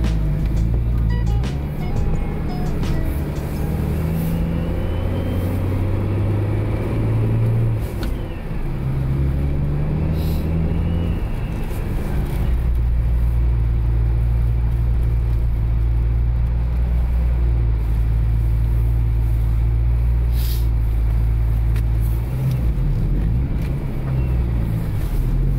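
A turbocharged Ford Ranger pickup with a rebuilt 4L80E transmission pulls away on a short drive, its engine a steady loud rumble with gear-related shifts in pitch, heard from inside the cab with no talking.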